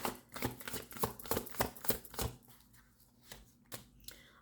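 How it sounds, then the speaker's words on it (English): Tarot cards shuffled in several quick riffling bursts at close range, a rapid papery flutter that comes and goes over a few seconds, with quieter pauses between shuffles. "One more shuffle, please."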